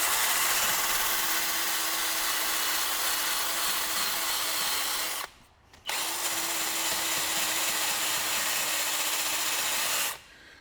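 Wire brush spinning on a power drill to clean Land Rover Freelander rear brake parts, a loud, steady whirring scrub with a brief stop midway before starting again, then cutting off near the end.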